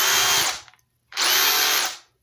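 A Craftsman SDS+ rotary hammer, model CMCH233B, runs in chisel-only mode in two loud bursts of about a second each, separated by a short silence, with no voices.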